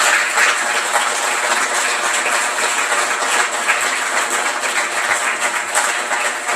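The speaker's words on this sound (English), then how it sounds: "Give him a massive round of applause" A room of people at a community centre event gives a sustained round of applause, a steady wash of clapping that holds evenly for several seconds with no speech over it.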